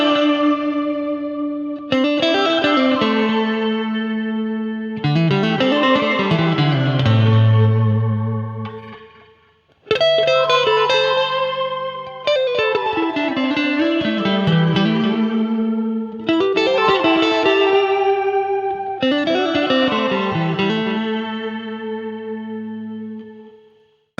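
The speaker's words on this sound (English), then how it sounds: "Next up is the shimmer mode, which is a pitch shifted delay, and I like this a lot to put on my lead sounds" Boss DD-8 digital delay pedal in shimmer mode on electric guitar: sustained lead notes ring out with pitch-shifted, octave-up repeats layering a bright, swelling halo, phrases rising and falling in several loud passages with no talking.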